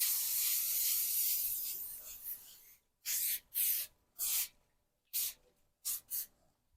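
A long hiss of cooking spray onto a parchment-lined pan fades out, followed by several short sharp spray bursts in quick succession, close by.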